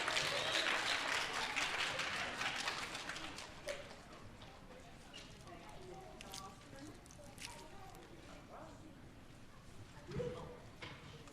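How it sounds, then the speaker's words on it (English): Applause at a 5th grade DARE graduation for Miss Johnson's homeroom class, a soft, distant patter of clapping that thins out over several seconds, with voices murmuring underneath. "please give Miss Johnson's class a big round of applause"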